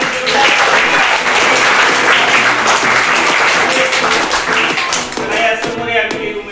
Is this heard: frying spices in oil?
no